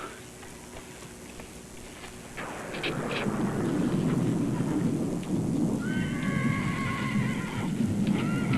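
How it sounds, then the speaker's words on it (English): An old horse whinnies loudly in a stormy outdoor scene, its neigh rising over rain and rumbling thunder after a quieter opening. "Don't make no fuss now, you old horse."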